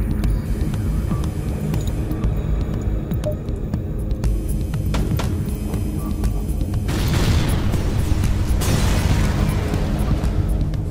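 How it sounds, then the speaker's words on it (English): Pegasus missiles strike a pirate ship in the space game FTL: Faster Than Light, with a deep rumbling hum swelling into broad booming bursts partway through, loud and continuous. "Well, now Pegasus missiles will destroy them."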